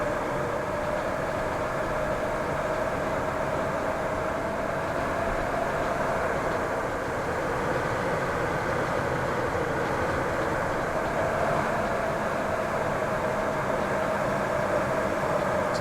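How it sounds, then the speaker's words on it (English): A train arrives in the Transport Fever 2 game, with a continuous rumbling rail hum and a steady whine, unbroken and moderately loud from start to finish, with no voices. "Last train arriving."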